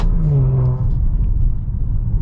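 A 2022 Maserati Levante Modena with a ZF 8-speed automatic, heard close and loud as a deep engine rev whose pitch drops quickly with a gear shift, settling into a steady rumbling drone.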